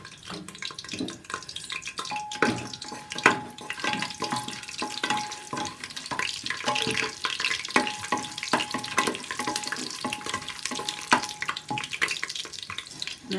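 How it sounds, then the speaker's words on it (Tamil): Whole spices for tempering crackle and fry in hot oil, a steady dense sizzle with scattered sharp pops running throughout, fairly close, with no talking. "தாளிப்பு கொடுத்த பொருட்கள்லாம் போடுறேங்க."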